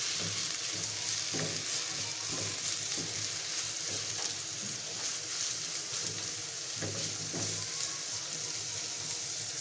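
Four medium onions frying in about half a cup of ghee for a mutton kofta curry masala, giving a steady, dense sizzle that stays loud and even throughout with a few faint clinks, no voices.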